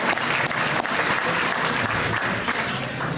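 Steady, dense applause from an indoor crowd at an awards evening, honoring the Clarion staff, sustained loudly throughout with no break.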